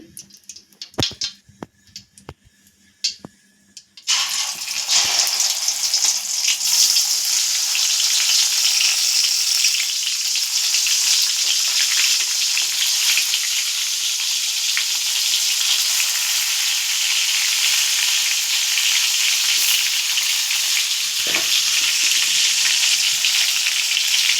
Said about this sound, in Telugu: ఆయిల్ వేడెక్కినాక మనం ముందుగా కలిపి పెట్టుకున్న వంకాయలను ఒక్కొక్కటి వదలాలండి